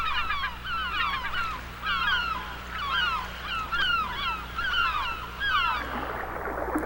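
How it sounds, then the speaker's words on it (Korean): Seagulls foraging in shallow seawater call in repeated bursts of squawking cries over a steady low rumble of wind or surf. "이 갈매기들은 물속에서 무엇을 찾고 있을까요?"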